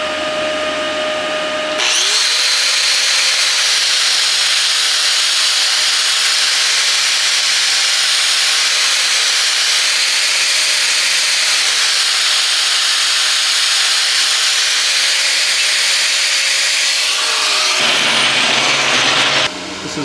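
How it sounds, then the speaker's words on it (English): A wire wheel on a power tool cleans a weld on a steel shooting plate, spinning up to a loud, steady high whine with rough hissing scrub that holds for about fifteen seconds before winding down. "Now I'll wire wheel it."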